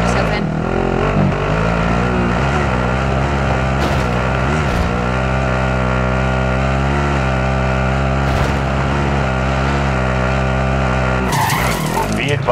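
A vehicle drives in a military shooter video game, its engine droning steadily and loudly with shifting pitch and occasional tire skids, while game voices and radio chatter sit in the mix.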